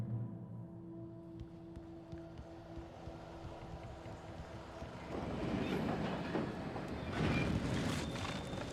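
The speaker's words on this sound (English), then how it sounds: "I'm gonna get attacked by a train now." A train in the video game Alan Wake rumbles past with a steady low roar and clattering that swells louder and nearer toward the end, with no talking.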